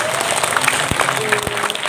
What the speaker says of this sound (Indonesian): Masya Allah, Bu, tepuk tangan sekali lagi.